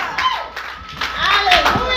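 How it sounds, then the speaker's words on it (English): Church congregation clapping hands in praise during a sermon, a brief burst of scattered claps mixed with crowd noise and voices. "Clap your hands and give him praise in here."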